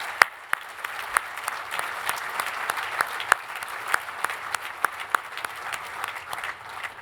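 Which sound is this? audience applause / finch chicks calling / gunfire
audience applause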